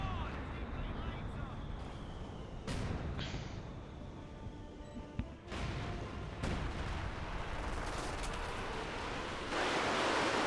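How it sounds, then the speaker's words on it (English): Artillery barrage in a Company of Heroes 2 match, with a Panther tank in the fight: repeated heavy booms and broadband blasts over a constant roar of battle, and a louder burst of explosions near the end. "Panther Panther unleashing another barrage there."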